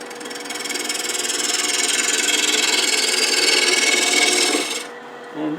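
A wood lathe spins square spindle stock at about 1,000 rpm and then faster, giving a loud, steady whirring rasp with a fine rapid flutter. It drops away sharply near the end, leaving a softer hum and a brief thump.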